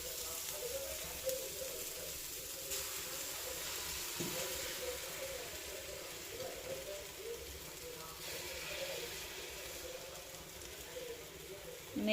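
An egg poured over an omelette in a pan on a home stove sets off a faint, steady sizzle that runs without pause, with light scraping and clicks underneath and no talking.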